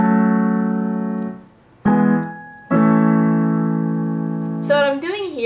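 Sustained piano chords for the introduction of a song, played alone: a long held chord, a short break, then two more struck chords ringing out, with a brighter note cluster near the end.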